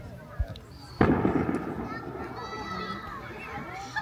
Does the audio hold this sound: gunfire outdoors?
yes